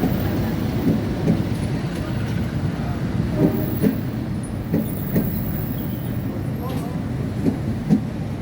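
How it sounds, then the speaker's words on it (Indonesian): The Manahan passenger train rolls into Gambir station with a heavy continuous rumble and periodic clanking beats from the wheels, heard from on board at close range. "kereta api Manahan tiba di stasiun Gambir"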